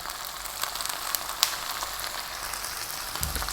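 Spiced mashed potato mixture with turmeric, chili, coriander, cumin and salt fries in a pan on high heat, giving a steady moderate sizzle with light crackles and a brief clatter near the end.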